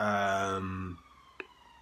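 An ambulance siren sounds loud and close, holding a steady wailing tone for about a second before cutting out, followed by near silence and a brief click.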